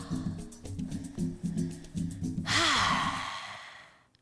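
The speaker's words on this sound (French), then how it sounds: "On inspire et on expire et on relâche." A person lets out one long, audible breath in a relaxed exhale that fades away, following a stretch of rhythmic low background music.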